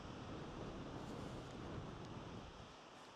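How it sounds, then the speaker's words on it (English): Strong coastal wind high up on the Norfolk coast buffets the microphone in a continuous roaring rush, loud and unbroken, easing slightly toward the end. "Very windy."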